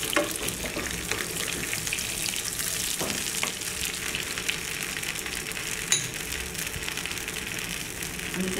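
Mustard oil sizzles steadily in a pan while prawn posto is being prepared, a dense, even hiss with a faint clink or two, close by and without talk.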